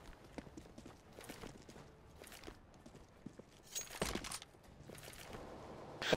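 Footsteps in CS:GO on the Dust II map, a quiet run of scattered steps among light clicks and other game noises, growing louder toward the end.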